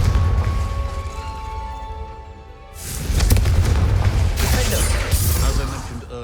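Confringo fire blast spell cast in Hogwarts Legacy, a loud booming burst that erupts suddenly after a steadier rumble and crackles on with fiery, explosive bursts over a low drone.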